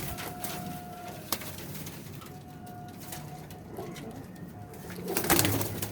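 Pigeons at a loft, including a blue-tailed bird, give low cooing amid steady bird chatter and rustling, with a louder burst of wing flutter and scuffling near the end.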